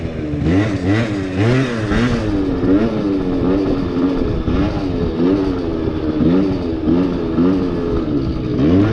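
A Yamaha Zuma scooter's small engine revs up and down repeatedly during a slow wheelie, loud and close, with a rising and falling buzzy whine and some mechanical clatter throughout.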